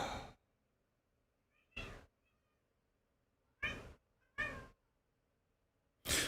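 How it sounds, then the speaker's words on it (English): Cats meow in the background of a quiet room, giving four or five separate drawn-out cries spaced a second or two apart, faint and alone with near silence between them. "Now you can hear the cats in the background instead."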